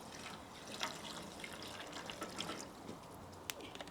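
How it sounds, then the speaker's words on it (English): Half a litre of boiling water is poured over chopped ivy in a pan to make liquid ivy soap, a faint, steady liquid trickle and splash with a few small clinks. "Half a litre of boiling water, just pour it over the top."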